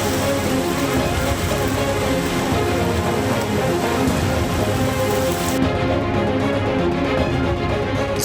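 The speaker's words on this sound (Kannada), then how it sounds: "ಬೆಳಗಾವಿ ನಗರ ಸೇರಿದಂತೆ ಜಿಲ್ಲೆಯಾದ್ಯಂತ ಭಾರಿ ಮಳೆಯಾಗಿದೆ" Heavy rain pouring down in Belagavi, Karnataka, a loud, dense and unbroken roar of water that stays steady throughout with no voices.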